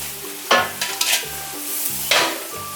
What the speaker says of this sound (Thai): ใส่กระเพรานะครับ ใส่ลงไปแล้วปิดไฟเลยนะครับ